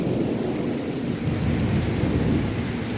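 Loud, close thunder rumbles on and on through a June thunderstorm, with steady heavy rain hissing underneath the whole time and no voices.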